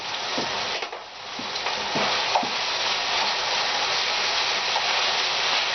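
Brussels sprouts are stirred in a hot frying pan with potatoes, giving a loud, steady sizzle broken by a few close scraping stirs near the start.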